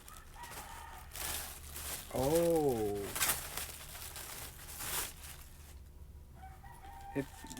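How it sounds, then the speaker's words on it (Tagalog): A rooster crows loudly in a wavering, drawn-out call amid surrounding voices and chatter, with a short exclamation heard nearby. "Sorry na sa ingay ng manok guys."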